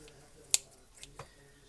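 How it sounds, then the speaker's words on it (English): A single sharp snip of kitchen scissors cutting bacon close by, followed by a couple of softer clicks, in an otherwise quiet room. "And just take your kitchen scissors and"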